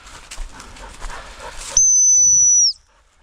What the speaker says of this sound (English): that's a sit whistle